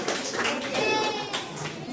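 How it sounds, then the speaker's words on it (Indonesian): A school farewell ceremony crowd applauds classes 9B and 9C: steady, dense clapping throughout, mixed with children's voices and chatter. "Berikan tepuk tangan yang meriah untuk kelas 9B dan 9C."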